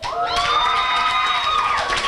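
At a high school sports banquet in Ste. Genevieve, Missouri, the audience cheers for the introduced head girls basketball coach with a short burst of whoops, whistles and hollers from many people.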